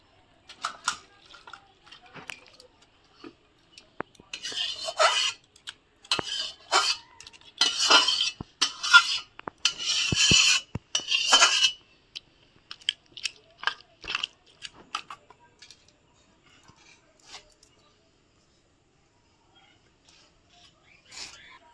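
Lau ghonto, a bottle gourd dish, being served from a pot onto a plate: scattered clinks and scrapes of a metal spoon against the pot, with a denser run of scraping in the middle, then sparse taps.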